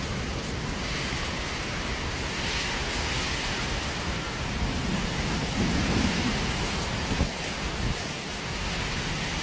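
Heavy rain from a storm over Brescia, Italy pours in a dense, loud, continuous roar, with a low rumble swelling briefly near the middle.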